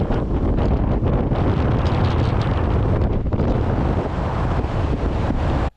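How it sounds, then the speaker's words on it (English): Strong wind buffeting the bow of a cruise ship off Key West, a loud continuous roaring rush with gusty fluctuations against the microphone, steady throughout before cutting off abruptly. "Here's just a small example of the wind up at the bow of the ship."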